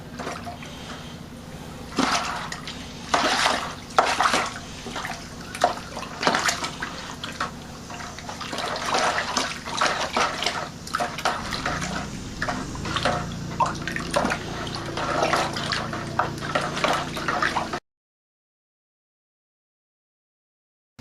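Blueberry wine in primary fermentation being stirred, giving a steady watery sloshing and swishing with irregular splashy pulses, close and moderately loud, ending abruptly.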